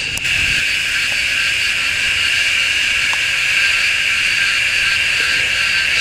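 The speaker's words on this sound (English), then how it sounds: "cicada buzzing away" A loud, steady, high-pitched buzzing of a redeye cicada drones on without a break, close and insistent, with no voices.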